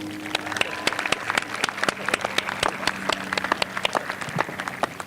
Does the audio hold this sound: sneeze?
no